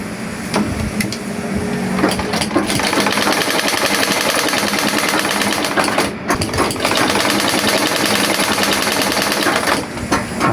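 A sewing machine fitted with a 3-line needle plate runs loud and close, a rapid continuous mechanical chatter of needle strokes that holds steady for about ten seconds, broken by one brief pause near the middle.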